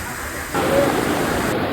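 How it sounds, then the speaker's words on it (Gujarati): Steady, dense broadband hiss of heavy monsoon rain at Pavagadh in Gujarat, growing louder after a brief moment and continuing loud and unbroken. "અત્યારે તમે જોઈ શકો છો એકદમ ધોધમાર ફૂલ વરસાદ"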